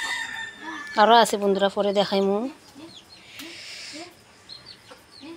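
Village chickens in a yard give a few short clucks and a distant crow-like call, while someone talks loudly close by for part of the time.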